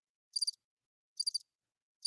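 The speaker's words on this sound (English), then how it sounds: "Crickets for him." Cricket chirping sound effect, made up of short trilled chirp bursts repeating about once per second against complete silence, clear and isolated, with no voices.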